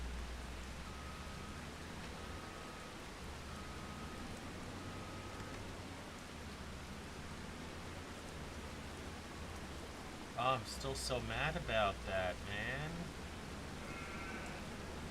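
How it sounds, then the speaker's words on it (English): Steady, soft video game rain hiss runs throughout, in Farming Simulator 25, with someone speaking briefly and some electronic tones layered over it near the end. "And I really need this rain to stop."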